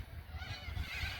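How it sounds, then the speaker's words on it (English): Ducks in a park honk and call faintly in a short, low burst of nasal squawks at a distance. "Here the nice ducks."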